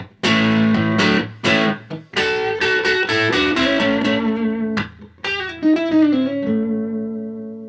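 Overdriven electric guitar through an overdrive pedal and amp, playing modern country-style chords and single notes, loud and gritty with a warm sustain, ringing out alone with brief pauses between phrases.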